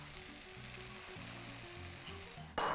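An egg frying in a pan with rice for egg fried rice, a quiet steady sizzle that jumps to a louder, brighter crackle near the end.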